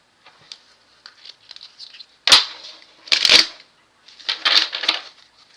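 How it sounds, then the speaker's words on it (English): Playing cards are shuffled by hand in a quiet room, giving soft riffling patters and three louder bursts of rapid flicking, close by with no speech. "I'm going to shuffle again."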